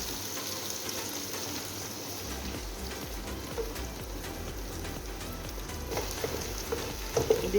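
Two beaten eggs frying with softened vegetables in a pan give a steady, close hiss and sizzle throughout, with a few light clatters of stirring near the end and no voices.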